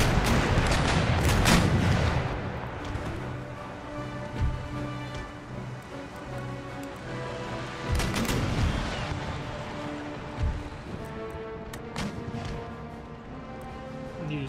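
Naval cannons fire chain shot in Empire: Total War, with heavy booming broadsides in irregular bursts, several loud volleys separated by rumbling decay and quieter reports, and no talking.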